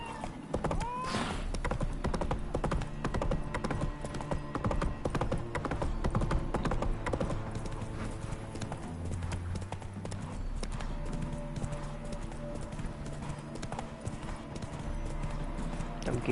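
Roach the horse's hooves clip-clop steadily and close in The Witcher 3 video game, a continuous walking rhythm over game music and ambience, with an occasional whinny.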